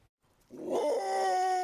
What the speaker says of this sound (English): John Lynn's dog, Reggie, knows how to make a loud introduction